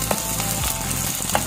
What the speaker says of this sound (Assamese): ৰঙচুৱাকৈ ভাজি দিছোঁ।